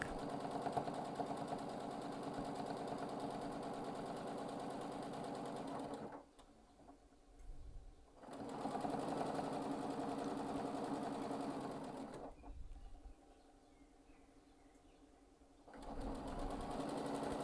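A sewing machine quilts feather designs with a steady, fast mechanical whirr that runs continuously, stops twice for a couple of seconds, then starts up again, close and fairly quiet.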